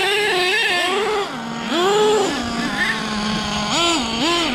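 HPI Savage nitro RC car with a K4.6 or F4.6 big block engine revving: high, buzzy two-stroke whine repeatedly climbing and dropping in quick blips from a steady idle, loud and close.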